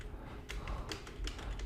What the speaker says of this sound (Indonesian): Jadi kita langsung ketik aja